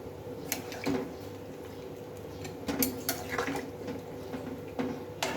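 Mutton and spices being stirred with added water in a kadai, giving soft scraping and clinking of a utensil against the pan with wet sloshing, moderately close and steady with a few sharper knocks.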